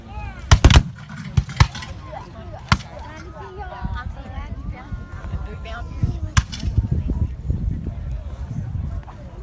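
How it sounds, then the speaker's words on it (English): Black-powder gunfire at a Battle of San Jacinto reenactment: sharp loud blasts, a quick double shot then scattered single reports at irregular intervals, some close and some farther off, with people talking and shouting in between. "They're still firing."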